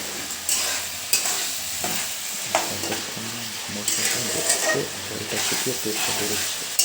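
Chicken curry spice paste fries in oil with a bright, continuous sizzle while a spoon stirs and scrapes the pan in irregular strokes, close up, with a faint voice murmuring underneath.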